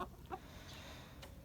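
Hens hatched from Czech eggs clucking on a small farm, a few short, faint clucks spread over a quiet background.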